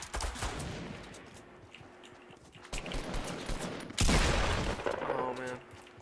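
Gunfire in the Fortnite Battle Royale video game, including a shotgun blast, comes as bursts of game shots and a loud sharp blast near the end, layered over busy in-game sound.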